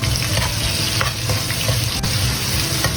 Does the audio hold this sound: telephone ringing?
no